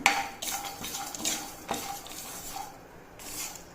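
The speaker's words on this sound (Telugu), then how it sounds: "దాల్చిన చెక్క వేస్తున్నాను, లవంగాలు వేస్తున్నాను. వీటన్నిటిని వేడెక్కే వరకు వేపుకుందాము." Cinnamon and cloves frying in a pan, heard as a few metallic scrapes and clinks of a spoon stirring against the pan over a faint sizzle.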